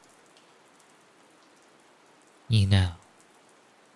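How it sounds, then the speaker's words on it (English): A soft, steady patter of rain falling outside a window continues faintly throughout, with a brief spoken phrase rising over it near the end. "I find the sound of the rain rather soothing, personally."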